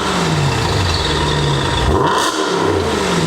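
Audi RS5 engine fitted with a new exhaust revving up and dropping back, loud and close, a rising throaty swell that falls off and settles into a steady rumble.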